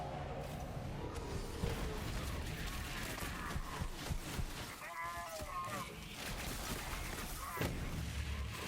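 Borderlands 3 combat with weapon gunfire and heavy booming shots mixed into a dense, continuous wash of game noise, with a voice talking over parts of it.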